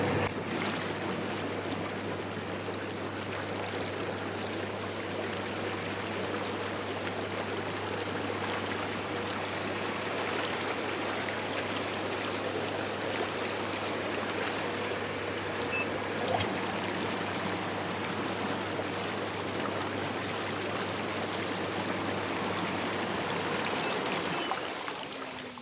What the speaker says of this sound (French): Go mettre les petites bulles.